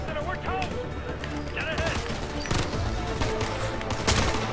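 Dense, continuous bursts of gunfire from the video game Ghost Recon: Future Soldier crackle loudly throughout, with a few sharper shots standing out and speech over the din.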